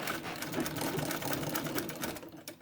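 A domestic treadle sewing machine stitches a fabric face mask, a quick run of close, rapid mechanical clatter with steady needle ticks, slowing at the end.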